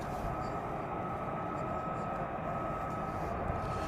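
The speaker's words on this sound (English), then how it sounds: "And there's definitely more F-15s started up," F-15 fighter jets starting up at RAF Lakenheath at night, a steady distant turbine whine with a constant high tone over a low rumble.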